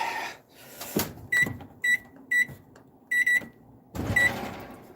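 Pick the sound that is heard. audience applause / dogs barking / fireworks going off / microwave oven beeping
microwave oven beeping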